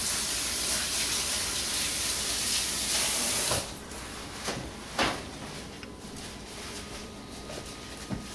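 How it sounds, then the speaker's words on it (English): Running water hisses from a kitchen tap while hands are washed at the sink, a steady close rush that stops partway through, followed by a few soft knocks and clatters. "I'm going to wash my hands for just 1 second."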